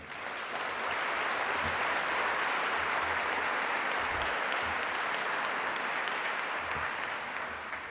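An audience at an Armenian Genocide commemoration in Sydney claps for the state and local political leaders present, a steady, dense wash of applause that holds at full strength throughout.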